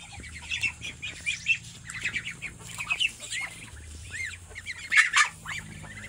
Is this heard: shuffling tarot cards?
no